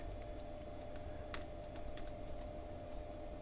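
Keys tapped on a computer keyboard as a wire size is entered, a handful of light, irregular clicks close by over a quiet steady hum, with no speech.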